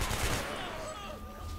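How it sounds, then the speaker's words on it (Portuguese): Gunfire from the shooter game Hatred, a dense burst of shots crackling continuously with game noise throughout, fairly loud and without speech. "Tô levando um tiro nem sei da onde."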